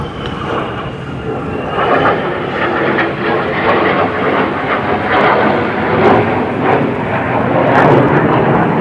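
A jet aircraft flies high over RAF Lakenheath in hazy weather, a loud continuous broadband roar that holds steady and swells slightly toward the end, with no voices.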